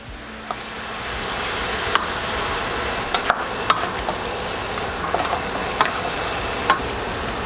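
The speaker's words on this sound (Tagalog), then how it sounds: "Haluin nyo lang maigi." Beef shank and beef feet being stirred in a pot make a soft, continuous sizzle, with scattered utensil clicks and scrapes against the pot.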